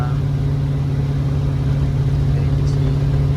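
A 1955 Chevy wagon drag car cruises along, its engine a steady, loud low rumble with a strong pulsing drone throughout.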